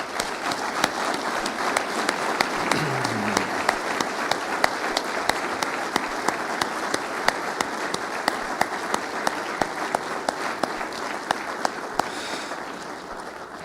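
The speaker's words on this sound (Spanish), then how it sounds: "¿Le puedes dar un aplauso fuerte al Señor?" A church congregation gives loud, sustained applause for over ten seconds, a dense, even wash of clapping with a few distinct close claps standing out throughout.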